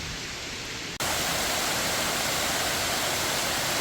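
A waterfall on the Niagara Escarpment in Hamilton roars as a steady, dense rush of falling water that swells abruptly to full loudness after a quieter first second, with no voices over it.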